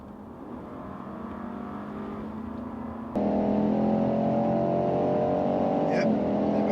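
A Jeep Grand Wagoneer and a Cadillac Escalade accelerating side by side in a drag race, engines droning steadily and then surging abruptly louder midway with a rising tonal whine, heard from inside with no talking.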